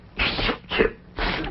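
Three short, breathy bursts follow one another closely, like a small sneeze or snort, close and sharp with brief gaps between them.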